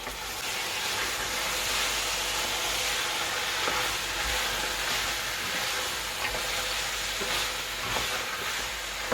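Drained chickpeas and red kidney beans hit a hot pan for a plant-based chili, giving a steady, loud sizzle and hiss that runs unbroken throughout with no talking.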